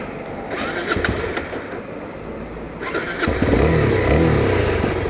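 A Suzuki DRZ 400 SM motorcycle engine stalls while running and then restarts, the idle falling away before a louder, rougher engine note rises again and carries on steadily.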